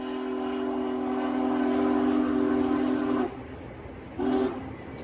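Union Pacific Big Boy steam locomotive sounding a loud, sustained whistle for about three seconds, then a short second blast over rumbling rail noise.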